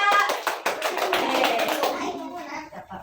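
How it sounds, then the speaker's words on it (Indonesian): Schoolchildren in a classroom clap for a presenting group, with sharp, uneven hand claps at first that soon give way to children's voices chattering. "Ya, tepuk tangan untuk kelompok 3."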